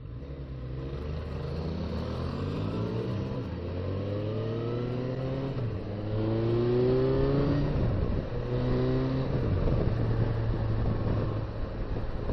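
A Hyosung 650R twin-cylinder motorcycle engine revs repeatedly, pitch climbing and dropping through gear changes, loud and fairly close with a throaty mid-range drone.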